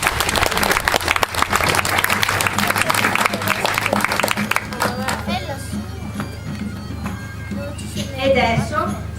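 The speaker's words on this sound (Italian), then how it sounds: "Un applauso ad Astra!" A crowd applauds at an ancient-costume parade styled after the fifth century BC, with loud dense clapping at first that thins into scattered claps while voices, including children's, chatter throughout.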